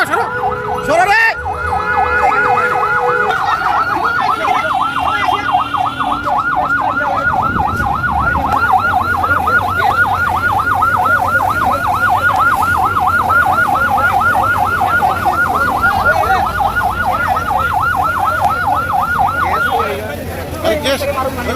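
A fire service emergency vehicle siren wails loudly in a continuous rapid up-and-down cycle near a gas cylinder fire, with engine rumble and voices in the background.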